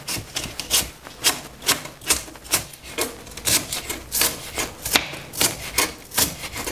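Spring onion being chopped for a salad, a knife striking a board in a steady run of crisp, close taps, about two to three per second, with no talk over it.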